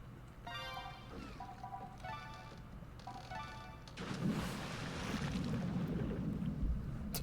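Beeping electronic game tones repeat in Endless Ocean: Blue World, then give way to a rushing, splashing surge of water as a diver breaks the surface.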